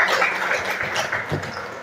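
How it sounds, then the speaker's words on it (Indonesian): A classroom of students claps for a classmate, a brief burst of applause with scattered hand claps close by, fading after about two seconds. "tepuk tangan untuk temannya"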